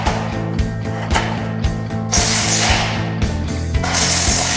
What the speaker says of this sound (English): we will just twist them in and then screw them on